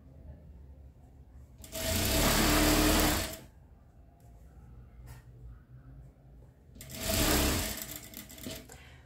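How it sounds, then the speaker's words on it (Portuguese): A sewing machine stitches patchwork fabric in two loud, steady bursts of whirring, separated by a quieter gap with faint handling noise. "Estou passando a costura."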